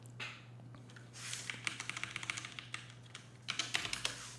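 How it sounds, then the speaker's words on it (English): Quick bursts of typing on a computer keyboard while entering commands during an OpenStack install on Fedora, light close clicks in short runs separated by pauses, with no talk. "If we can type it right."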